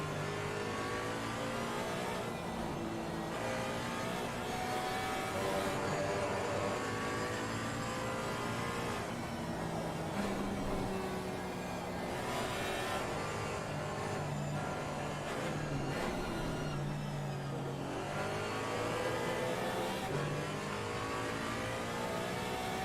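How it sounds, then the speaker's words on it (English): A Porsche Cayman GT4 racing in Assetto Corsa Competizione revs hard through repeated gear changes, its engine note climbing and dropping in cycles over shifting tones for over twenty seconds, loud and alone without talk. "hear the sound of that Porsche Cayman's lovely engine"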